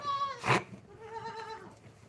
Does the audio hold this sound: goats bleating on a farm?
yes